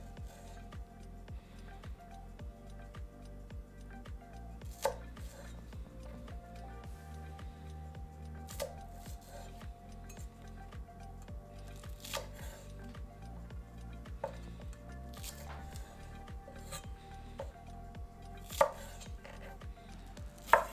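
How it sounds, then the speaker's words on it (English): Knife chopping green onion stalks on a cutting board, with steady rapid blade taps on the board and a few sharper louder knocks, close and alone. "cut green onion stalks to separate the white and green parts"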